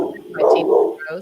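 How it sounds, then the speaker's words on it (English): A dog barks close by in a short yappy burst, partly under a person talking. "Sorry about my dog. He barks at everything."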